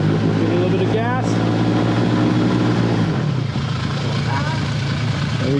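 A sailboat's engine rises in revs while going astern at a stern anchorage, a steady loud drone that lifts in pitch and then settles into a lower rumble, with people talking over it.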